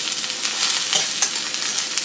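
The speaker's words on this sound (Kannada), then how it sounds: "ಈರುಳ್ಳಿ, ಹಸಿರು ಮೆಣಸಿನ್ಕಾಯಿ, ಹಾಗೆ ಕೊತ್ತಂಬರಿ ಬೀಜ ಹಾಕಿ ಸ್ವಲ್ಪ ಹುರಿದ್ಮೇಲೆ ಈ ಕಟ್ ಮಾಡಿಟ್ಕೊಂಡಿರುವಂಥ ಜುಕಿನಿಯನ್ನು ಹಾಕ್ತೀವಿ." Zucchini pieces frying in a pan with onion, green chilli and coriander seeds give a steady, close sizzle with soft stirring scrapes, no voices.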